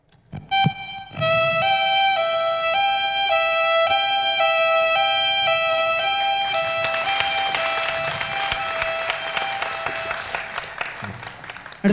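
Violin and flute together imitate an ambulance siren at a live fusion band performance, holding a bright, steady tone that steps between pitches for about ten seconds, with a wash of crowd noise or applause swelling in the second half.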